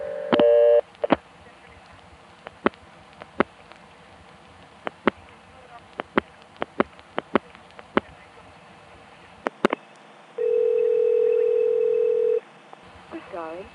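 Telephone line tones on a 1976 phone network: a short tone burst, then a string of sharp dialing clicks and pulses, a brief crackle, and a steady two-second tone near the end, with no speech.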